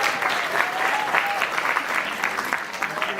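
Children clapping together in a welcome, a dense, lively burst of applause that carries on steadily with a faint whistle-like tone over it.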